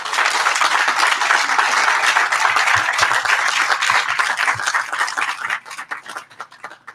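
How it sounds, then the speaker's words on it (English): Sustained applause from a ceremony audience honors a graduating residency class of 2021 at a medical center graduation, the clapping dense and even before thinning out into scattered claps near the end. "let's give a round of applause to the graduating class of 2021"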